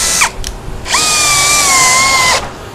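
A cordless drill bores into hard wood: a short whirring burst, then one long steady high-pitched whine of about a second and a half that stops abruptly. It is close and loud, with no talking.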